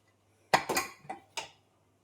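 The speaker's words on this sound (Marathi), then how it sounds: "आता मी झाकण उघडते" Pressure cooker lid being opened in a home kitchen after cooking mangoes, four quick metallic clinks and clanks close by in an otherwise quiet room.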